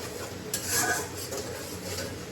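A spatula stirs and fries spice paste in a pan in a home kitchen: a faint, brief scrape and rustle against the metal under a low background hiss.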